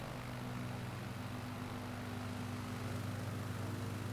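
Rara Avis Zippy Sport light aircraft engine in Microsoft Flight Simulator 2020, a steady droning propeller hum with a low buzzing tone, constant and close, with no voices.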